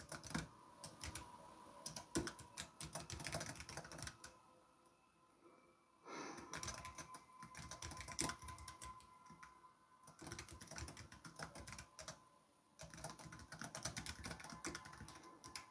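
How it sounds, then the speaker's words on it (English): Rapid, uneven clatter of keys on a computer keyboard, typed in bursts with brief pauses between them, close and fairly loud. "I'm just typing in what I'm hearing"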